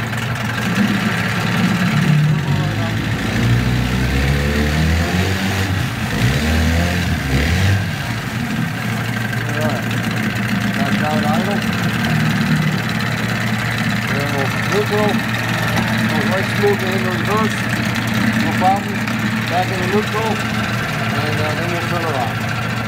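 A Johnson 9.9 HP outboard motor with a remote setup runs steadily after a restart, a close, continuous idling drone. Someone talks over the engine early on.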